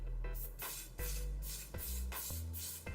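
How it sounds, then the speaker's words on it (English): Hairspray hissing from an aerosol can onto hair in several short bursts, each spray a broad airy hiss starting and stopping abruptly, close and fairly quiet, with no talking. "I'm just going to get a little bit of hairspray"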